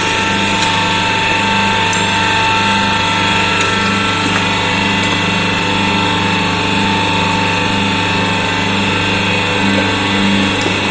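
A hydraulic bending machine runs with a loud, steady mechanical drone and tonal hum, plus a few faint clicks, holding level throughout without speech.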